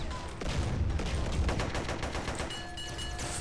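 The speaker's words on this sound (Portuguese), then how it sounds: "Putz, tanque tá atirando em mim, será?" In GTA San Andreas, a tank fires at the player amid dense bursts of game gunfire that rattle on continuously, loud and close, with a steady hum underneath.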